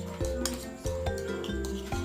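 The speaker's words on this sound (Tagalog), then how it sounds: "butangan na to og itlog and then mix" Egg being stirred into chopped cabbage for a low-carb burger patty, with repeated clinking of a utensil against a bowl in steady strokes, close and fairly loud.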